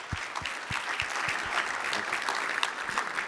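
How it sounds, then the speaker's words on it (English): Conference audience applauding as a speaker, a company CTO, is invited onto stage; steady dense clapping throughout, moderately loud and close, with a few sharper nearby claps standing out. "give him a big round of applause."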